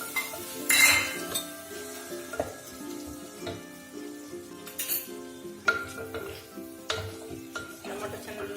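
Chopped tomato frying for dal dokliya is stirred in a pan, with metal spoon clinks and scrapes against the pot over a soft sizzle. The knocks come at an uneven rhythm, close and moderately loud.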